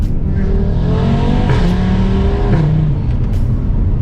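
A 2019 Audi RS3 with a full Milltek exhaust pulls hard, its engine note rising loudly and then dropping at each gear change, several shifts in quick succession, heard from close by.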